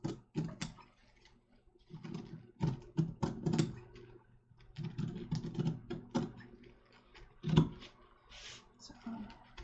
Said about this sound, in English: I'm just going to kind of try to cut right up the middle of this really thick line